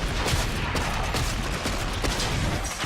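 Shotgun fire in the video game Warframe, a dense, loud barrage of blasts and booming impacts crowding together over a few seconds with no talk.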